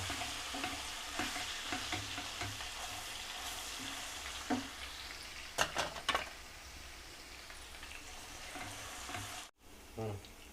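Ginger and tomato chutney ingredients sizzling in a pan, a constant dense frying hiss with a few brief stirring scrapes and clinks near the middle, steady and close.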